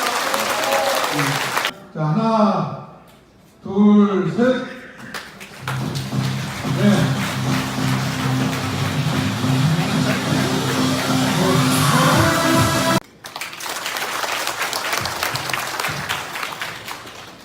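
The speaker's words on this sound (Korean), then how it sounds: "큰 박수 부탁드립니다" Applause from an audience at a party New Year greeting event in Boryeong, following an announcer's speech, a long, loud burst of many hands clapping that stops abruptly, with talking before and after it.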